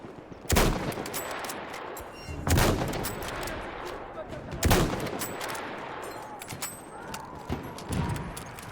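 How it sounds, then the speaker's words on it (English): Enemy machine gun fire in the Battlefield 1 game comes as several loud bursts spaced a second or two apart over a continuous battlefield din, with crackling sounds in between. "Une de leurs mitrailleuses."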